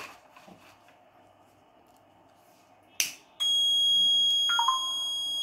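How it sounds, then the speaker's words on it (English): An IoT fire detector built on a NodeMcu ESP8266 sounds its fire alert through the Blynk app: a sharp click, then a loud, steady electronic alarm tone that holds continuously to the end with a bright, buzzing edge. "notification came here, notification came, fire alert, take action immediately"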